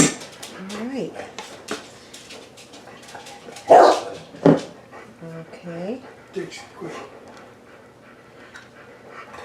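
A pet dog barks in a home kitchen while a chocolate cake is being made from scratch, giving sharp, close barks mixed with whimpers and panting, along with clattering dishes and a person talking.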